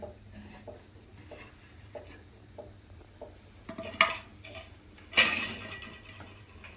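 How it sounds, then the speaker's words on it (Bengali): Metal clinks and clatters from a cooking pot as its lid is lifted off a pot of potato biryani in a home kitchen, a few light taps followed by two sharper metallic knocks close by. "এখন ঢাকনাটা খুলে দেখে নেব কেমন হয়েছে।"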